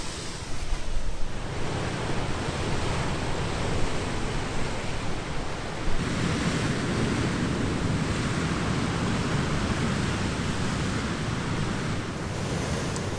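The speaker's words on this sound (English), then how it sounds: "I've got some monster waves coming through right now" Steady roaring wash of ocean surf at Brothers Point on the Isle of Skye with wind rumble, a continuous loud broadband rush that swells slightly around midway, no voices.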